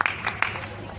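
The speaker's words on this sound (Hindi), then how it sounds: "तालियों से अभिनंदन।" An audience at a poetry gathering on a book fair's cultural stage in Lucknow breaks into scattered hand claps, a brief, moderately loud burst of applause.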